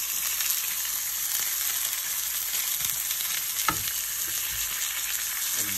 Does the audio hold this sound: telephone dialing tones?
no